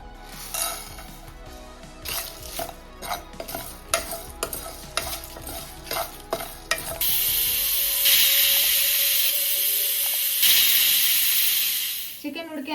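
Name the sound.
lightly roasting spices and nuts in a pan for chicken haleem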